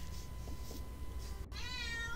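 A cat gives one short, faint meow near the end, close by, over a quiet background hum.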